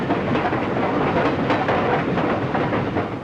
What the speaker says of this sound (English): the Flying Mercury of the New York Central running from Cleveland to Detroit.